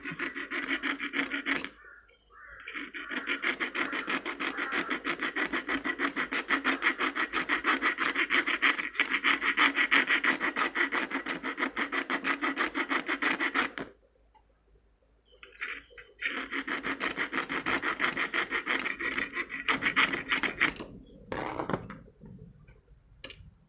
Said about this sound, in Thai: เจียให้เงาเลยนะครับตะกั่วจะได้ติดนะครับ